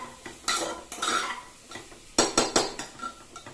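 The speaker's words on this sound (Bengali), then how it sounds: "এবার মশলাটা সবজির সাথে খুব ভালো করে মিশিয়ে নেবো।" Maggi masala stirred into vegetables in a pan: close, crisp scraping and clattering of a spatula against metal in quick uneven strokes, with a faint sizzle underneath.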